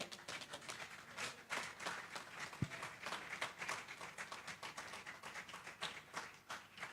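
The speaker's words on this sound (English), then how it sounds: "Keep the applause going" Audience applause at a memorial lecture for a PhD plant ecologist called up as the first awardee, a steady wash of many hands clapping for several seconds at moderate, slightly distant level.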